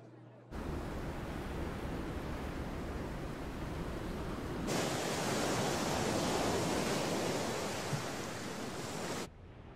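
Sea waves wash onto the shore in a steady, broad rushing roar that swells louder partway through and then cuts off.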